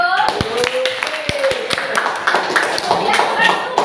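Schoolchildren in a classroom clap their hands in a short burst of applause, sharp claps close by with voices talking over them.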